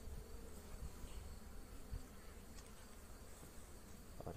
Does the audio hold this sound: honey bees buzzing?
yes